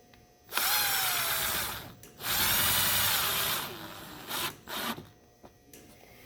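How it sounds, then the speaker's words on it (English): A power drill driving square-drive screws into a kid's Gator ride-on, with two sustained whirring runs, then short bursts as each screw seats. "All right, now we're gonna put the screws in."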